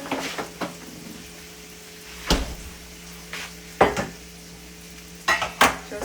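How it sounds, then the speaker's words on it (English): Peppers and onion sautéing in butter, a faint sizzle under several sharp clanks and scrapes of a spatula and pan, spaced unevenly and close by. "we're gonna put a little bit more butter just to saute the peppers and the onion"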